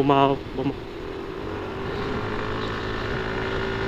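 A motorcycle carrying two riders travels a highway with a suspected flat tire, a steady low engine drone and road rumble after a brief voice at the start.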